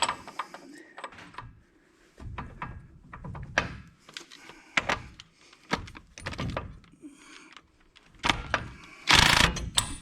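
A socket ratchet wrench clicks in uneven bursts while working on wheel bearings and an axle nut, with metallic knocks and clanks between the strokes, close and fairly loud.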